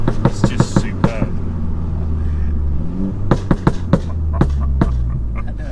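Modified R56 Mini engine pulling on throttle, a steady low rumble with sharp pops and crackles scattered through it, heard from inside the car with voices talking over it.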